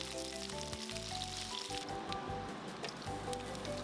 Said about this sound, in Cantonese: 我哋將啲隔乾水抹乾身嘅薯仔放落去，然後繼續用中大火，每面煎佢大概1-2分鐘